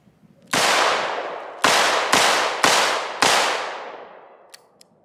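Five loud, close gunshots are fired at a target in a cowboy-style shooting attempt, the first alone and the next four in quicker succession, each with a long ringing decay and no talking.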